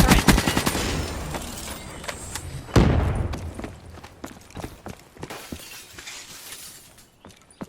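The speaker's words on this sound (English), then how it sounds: "Gunfire sounds and stuff, as you can hear, they all sound pretty impressive." Rapid gunfire in Black Ops III multiplayer: bursts of sharp automatic shots, a loud blast near the three-second mark, then scattered single cracks and shorter bursts that thin out toward the end.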